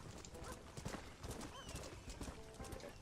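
A horse in the Red Dead Redemption video game gallops with rapid hoof clip-clops and lets out a brief whinny, steady hoofbeats over a busy background, moderately quiet.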